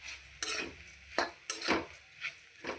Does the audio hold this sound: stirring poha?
yes